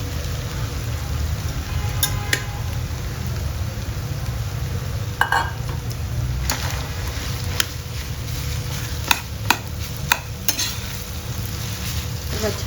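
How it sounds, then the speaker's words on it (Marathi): Rice goes into a sizzling pan for fried rice, bringing a steady hiss of frying, a spoon stirring, and several sharp metallic clinks against the pan. "आता ॲड करणार आहे राईस."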